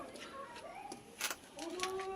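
A pair of Kalduma pigeons coo softly in short, rising and falling phrases, faint and close, with light background noise.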